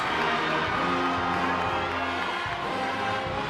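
A gym crowd at a girls' high school basketball game cheers and shouts steadily, a dense wash of voices and whoops that stays loud throughout, with chanting tones rising and falling.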